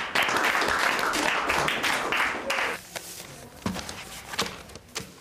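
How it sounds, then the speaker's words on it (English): Brief applause from a school audience, loud and dense at first, then dropping off abruptly into a few scattered claps and light knocks. "I think that rally deserves a spontaneous round of applause"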